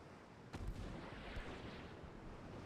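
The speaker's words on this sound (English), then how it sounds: "I heard torpedoes launch." Torpedoes launch from a warship in the Ultimate Admiral Dreadnoughts naval game during a night engagement, giving a dull muffled boom and then a low rumbling rush that carries on through a steady background roar.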